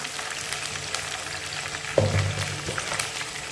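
Oil sizzling steadily in a pan while ingredients fry for a spicy brinjal kara kuzhambu, with a soft clink around the middle and a low hum beneath; no talking.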